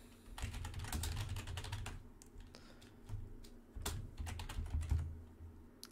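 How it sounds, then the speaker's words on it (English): Steady bursts of typing on a computer keyboard, quick clustered keystrokes with brief pauses between runs, close and fairly quiet with no talking. "So after typing that in and selecting different first page"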